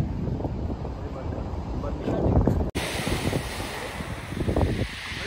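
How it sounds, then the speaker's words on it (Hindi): Sea waves wash steadily along the shore at Batumi, Georgia, a continuous broad rush of surf heavily buffeted by wind noise on the microphone, with a brief dropout midway. "समुंदर की लहरें देखी गाइस साहब,"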